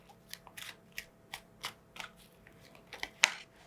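A deck of Lenormand fortune-telling cards is shuffled in a quick series of crisp riffling bursts, close by, ending in one sharper snap.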